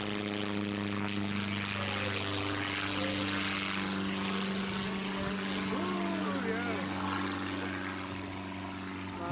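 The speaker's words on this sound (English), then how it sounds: "he was able to get the plane off the ground nice and safe" A Vickers Vimy biplane takes off in gusty wind, its propeller engines droning steadily and loud throughout, with a voice talking over the engine noise.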